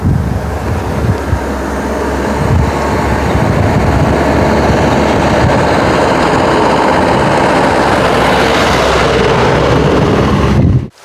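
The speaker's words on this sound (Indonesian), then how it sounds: "Nah, itu ada motor roda 4 yang dari bawah ke atas." A four-wheeled motor vehicle climbs a smooth paved hill road in a highland village, its engine droning steadily and close, swelling louder near the end before cutting off abruptly.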